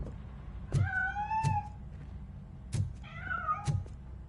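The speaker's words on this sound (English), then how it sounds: "That cat must be hiding inside." A cat meows several times while escaping from inside a piano, a few clear rising and falling cries, each followed by soft thumps and bumps nearby.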